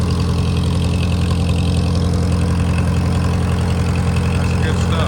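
A Kohler light plant generator engine, freshly fitted with a rebuilt 115-volt fuel pump, idles steadily at close range with a loud, even low-pitched throb that holds unchanged throughout.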